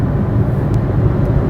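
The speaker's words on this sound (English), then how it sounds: "Here's some of the traffic on US 93." Highway traffic rumbles past on US 93 in the Nevada desert, a steady loud low roar of passing vehicles, mostly trucks, mixed with wind noise.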